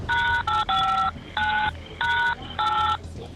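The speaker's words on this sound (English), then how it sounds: "Don't press any buttons on the phone so I can hear you." Telephone keypad tones during an emergency call: five distinct beeps in an uneven sequence, loud and close, over faint background noise and no speech.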